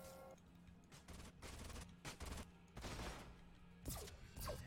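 Paragon troops fire in Age of Wonders: Planetfall, a series of rapid gunfire volleys in several bursts, with sharp crackling shots and a few louder impacts, fairly quiet overall with no talking.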